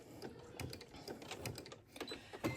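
A sewing machine backstitches on a velvet scrunchie, making quiet, close, uneven bursts of rapid stitching with short pauses between them.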